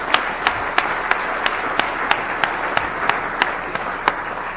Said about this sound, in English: Maybe if we give them a big round of applause.